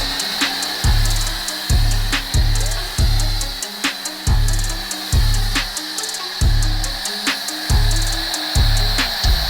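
Ryobi battery power washers running in repeated bursts, a steady high-pitched motor whine with a loud low rush that starts and stops about every second and a half, close by with no talking.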